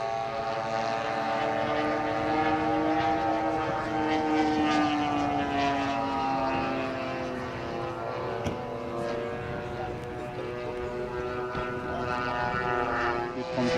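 Steady, droning roar of a de Havilland Mosquito's twin piston engines, flown at a radio-controlled model air show, a continuous layered hum holding near and loud throughout with slight shifts in pitch.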